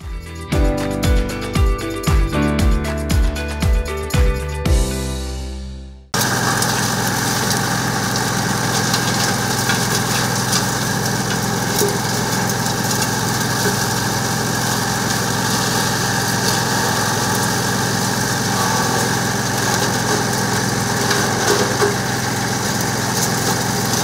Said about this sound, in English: Picking up whatever we can, putting it through the hammer mill.